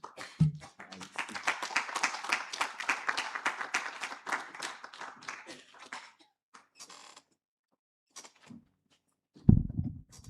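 An audience at a counsellors' summit breaks into applause, a dense burst of many hands clapping that thins out into scattered claps and then a couple of isolated knocks.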